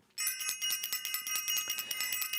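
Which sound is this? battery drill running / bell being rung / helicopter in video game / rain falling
bell being rung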